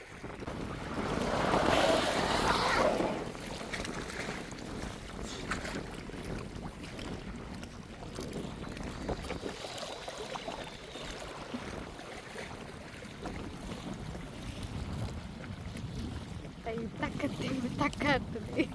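Strong storm wind sweeps across a fishing pond from a small boat, roaring and buffeting the microphone in a loud gust early on and then as a steady rushing noise over lapping water.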